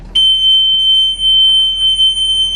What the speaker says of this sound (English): As you can hear, buzzer is working properly.